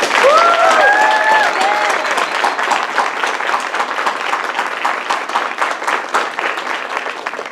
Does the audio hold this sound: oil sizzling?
no